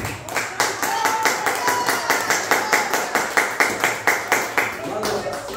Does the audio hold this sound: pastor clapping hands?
yes